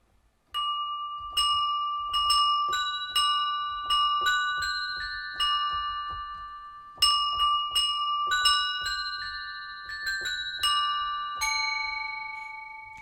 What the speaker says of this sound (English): in this section we've got chapel bells